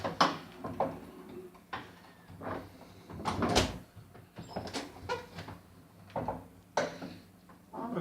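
A door with freshly lubricated hinges is opened and closed repeatedly, giving a series of soft knocks, thuds and light rattles at irregular intervals, fairly faint and close.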